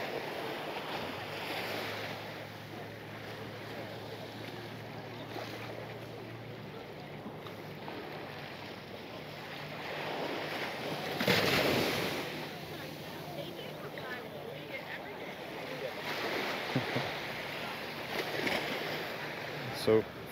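Gentle surf washing onto Eagle Beach in Aruba during a shoreline walk, a steady low wash with a swell of breaking water midway, heard alongside wind and faint background voices.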